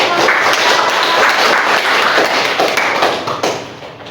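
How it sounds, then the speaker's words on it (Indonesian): A classroom group claps for a presenting team during a microteaching lesson, a dense burst of close hand clapping that runs steadily for several seconds and then thins out. "Beri aplaus dong."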